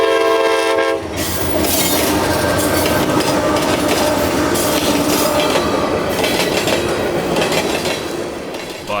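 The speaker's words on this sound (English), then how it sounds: "B339 is a fun train to chase along Fort Greene Road." CSX freight train B339 on the Brewster Sub near Fort Greene Road, opening with a loud multi-tone horn blast before the close, roaring rush of cars and clattering wheels passing continuously.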